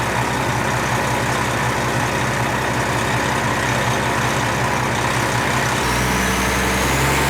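A Kenworth 850 logging truck approaches, with a loud, steady diesel engine rumble that holds throughout and deepens in pitch near the end as it draws close.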